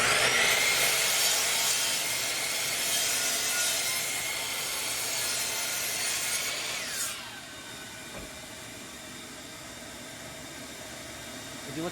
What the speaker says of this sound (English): brought it over to the miter saw. This is my Bosch miter saw.